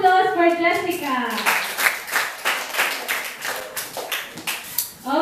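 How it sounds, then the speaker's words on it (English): Classmates at a school debate clap for a student debater, a scattered round of close hand claps that starts after a voice and fades as another voice begins. "a round of applause for Jessica"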